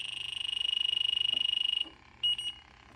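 Handheld refrigerant leak detector checking a Mr Cool mini split, giving a fast continuous pulsing beep that stops, then a short burst of quicker beeps, close and loud.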